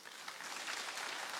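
A ceremonial crowd gathered for a state-of-the-nation address in a palace applauds health workers, a dense, even wash of many hands clapping at moderate level throughout.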